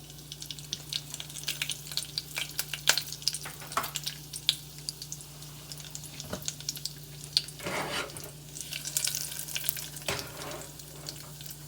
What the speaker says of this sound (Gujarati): જીરું ને મેથી તતડ્યા છે